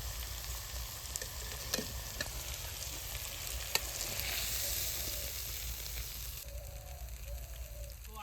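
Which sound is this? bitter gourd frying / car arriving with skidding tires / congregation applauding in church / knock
bitter gourd frying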